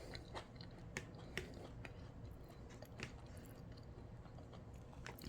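Someone biting and chewing Hass avocado with the skin on, soft close-up wet chewing with small crunchy clicks scattered through, quiet and steady; no talking.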